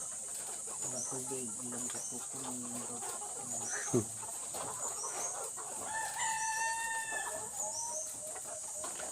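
A flock of ready-to-lay layer hens clucks in short, repeated calls, and a rooster crows once clearly, close by. A steady high insect-like whine sits underneath, with faint background voices.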